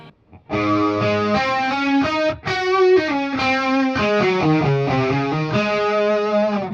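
Distorted electric guitar plays a melodic run of held notes doubled by a harmonized second voice from a TC Electronic 2290 P Dynamic Delay pedal preset, loud and continuous.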